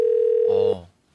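Telephone tone while a call connects on a Korean live radio-style show, a single steady electronic tone holding for under a second before cutting off, fairly quiet and clear with no talking.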